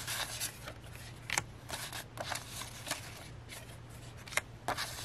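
Vintage paper ephemera cards handled and shuffled: soft, close papery rustling and sliding with a few crisper flicks, quiet and continuous, no talk.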